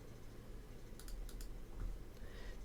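A computer mouse gives a few soft, close clicks in a short burst over a quiet room background.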